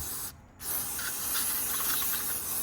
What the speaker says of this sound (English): Give her one last spray